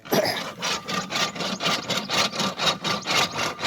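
An SS bore casing machine punching holes in a borewell casing pipe gives a steady run of rough, evenly spaced scraping strokes, about three per second, close and alone.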